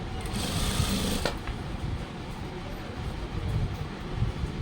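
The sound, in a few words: sewing machine stitching a school uniform pant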